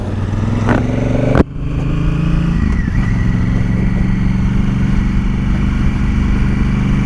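A 2018 Honda CRF1000L Africa Twin adventure motorcycle rides over a heavily potholed road, its engine droning steadily and loudly, with one sharp jolt or clunk early on.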